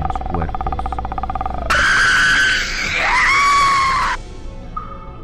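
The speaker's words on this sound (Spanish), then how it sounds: "Se escucharon sus gritos." Young girls scream in terror in a horror story, shrill and loud, with cries rising over a tense, dark backdrop and a brief lower voice near the end.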